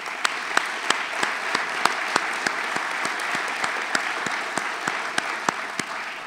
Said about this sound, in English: That deserves some applause.